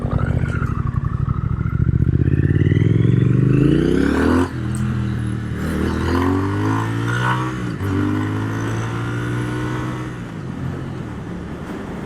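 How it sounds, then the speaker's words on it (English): A big truck's Jake brake rattles out a loud, throbbing engine roar that steps down in pitch through several stages, heard close by from a moving Triumph Thruxton RS motorcycle with wind noise. "Here's Jake brake"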